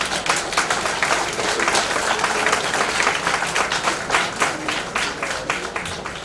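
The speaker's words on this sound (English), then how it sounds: "They deserve a very good round of applause" Audience at a state-level CA students conference in Kumbakonam applauds paper presenters, steady dense clapping from a large crowd lasting several seconds with a few louder individual claps standing out.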